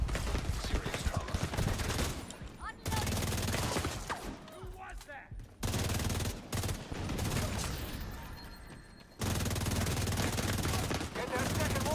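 Loud, dense bursts of automatic gunfire and heavy mortar-like explosions in the Division 2 video game, coming in long sustained volleys broken by short quieter gaps.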